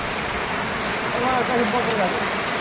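Rain falls on a farm field in a dense, steady hiss with no breaks, close and fairly loud throughout.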